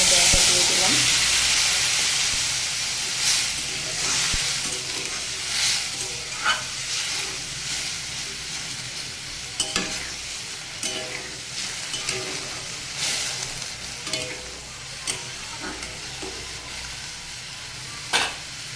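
Potatoes frying in a pan sizzle loudly and steadily up close as turmeric tempering water is poured in, with occasional scrapes and knocks of stirring over the hiss.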